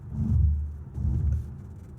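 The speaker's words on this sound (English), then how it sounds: "As you can hear the rumble strips" Car tires rolling over road rumble strips while driving to work produce two heavy, low droning bursts of vibration, close and loud, separated by a brief dip.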